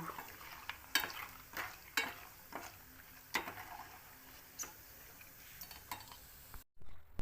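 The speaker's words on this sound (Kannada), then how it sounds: "ಕಡಿಮೆ ಉರಿಲಿ ಅದನ್ನು ಫ್ರೈ ಮಾಡ್ಕೋಬೇಕು ಕೊಬ್ಬರಿ ಹಾಕಿದ್ದೀನಿ" Grated coconut stirred and frying gently in a pan over a low flame, a spatula scraping and clinking against the metal at intervals over a faint sizzle, quiet and close.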